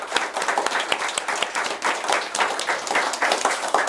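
A lecture-hall audience claps for two guests, a dense, lively burst of many hands with uneven rhythmic peaks that keeps going without letup.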